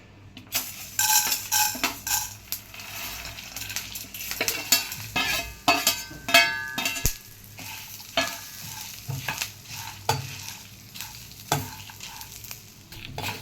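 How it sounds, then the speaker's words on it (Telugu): Chana dal, peanuts, curry leaves, fennel, cumin and dried red chillies fry in a kadai for bitter gourd podi, with steady crackling sizzle and repeated scraping, stirring clinks of a spoon against the pan, close up and with no talking. "కొద్దిగా శనగపప్పు, ఒక 2 స్పూన్స్ శనగపప్పు, 2 స్పూన్స్ వేరుశనగ గుళ్ళు, కరివేపాకు, సోంపు, జీలకర్ర, ఎండుమిర్చి ఇదే కళాయిలో ఫ్రై చేసుకోవాలి అన్నీ కలిపి."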